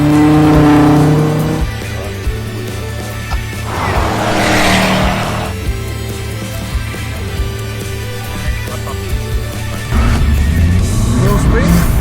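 Audi RS5 Coupé V8 engine revving hard while driving on the road, loud throaty roar rising and falling through gears close up inside the car, with occasional voices talking over it.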